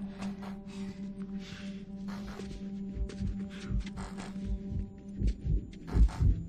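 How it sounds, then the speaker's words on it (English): Heartbeat in The Last of Us, a steady run of low, thumping beats that grows stronger and closer toward the end, set against a steady hum and scattered game noises. "feeling like Joel's heartbeat in my controller right now is insane"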